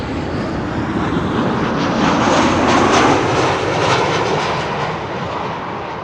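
Passenger jet operated by Norse passes close overhead while landing at Amsterdam Schiphol Airport, its loud engine roar swelling to a peak midway and then easing as it moves off, with no talk.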